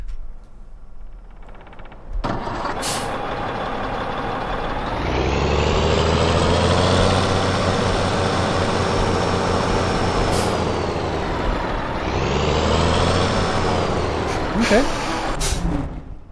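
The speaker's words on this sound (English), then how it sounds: "Let's turn the engine on here. Let's see what it sounds like." A 1100-horsepower Big Bud tractor in Farming Simulator 17 cranks over and settles into a loud, steady diesel drone, with a sharp air-brake-like hiss near the start and brief clicks, running alone without talk.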